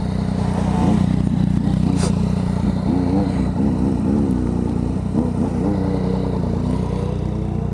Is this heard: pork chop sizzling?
no